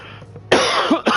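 A man coughs twice in quick succession, close and loud, during a live Gran Turismo 7 gaming stream.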